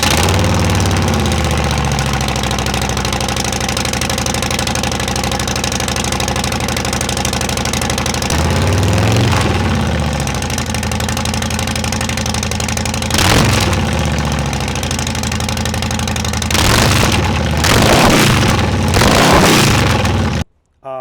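Harley-Davidson Breakout Softail motorcycle engine running loud and close, a deep steady idle rumble with a few revs breaking through.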